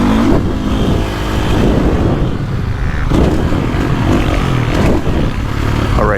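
A KTM 450 four-stroke dirt bike rides through woods, its engine droning steadily and loudly up close with throttle rises and falls throughout, no talking.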